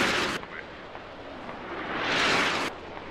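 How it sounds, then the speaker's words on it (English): A smoke artillery barrage lands in the video game Squad, heard as rushing, rumbling bursts that swell and fade over a few seconds under faint background noise. "here comes smoke artillery barrage"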